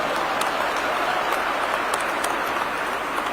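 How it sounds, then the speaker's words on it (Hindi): A large audience at a formal government event in Rajasthan applauds to welcome a guest of honour, a dense, steady wash of clapping throughout with no pauses. "एक बार अमित शाह जी भाई साहब का जोरदार तालियों से स्वागत और अभिनंदन करेंगे।"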